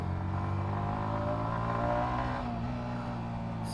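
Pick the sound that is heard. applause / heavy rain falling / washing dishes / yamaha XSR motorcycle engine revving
yamaha XSR motorcycle engine revving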